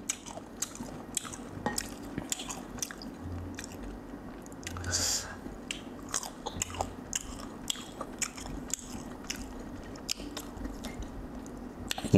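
Close, steady crunching and biting of tamarind eaten with shrimp paste, repeated chews and soft squishes throughout with no talk.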